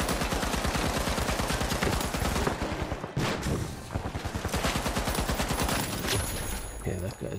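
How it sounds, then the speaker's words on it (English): Rapid automatic gunfire in the video game The Finals, dense bursts of shots rattling almost continuously with a brief pause midway, loud and close. "He's shooting at somebody."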